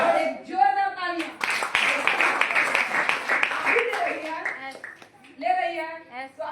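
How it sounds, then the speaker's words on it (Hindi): An audience claps at a product-promotion gathering, a dense wash of applause rising in the middle and fading out, with a speaker's voice before and after. "एक जोरदार तालियां"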